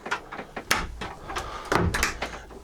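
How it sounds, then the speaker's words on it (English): A cabin door on a Trintella 44 sailing yacht swings shut with a couple of close wooden knocks and latch clicks over quiet interior room tone. "We'll close the door"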